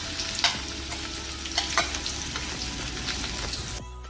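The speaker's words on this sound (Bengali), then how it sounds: "সাতটি কাঁচামরিচের ভাজি" Green chilies frying in hot oil in a wok, a steady close sizzle with several clattering stirs of a utensil, cutting off abruptly near the end.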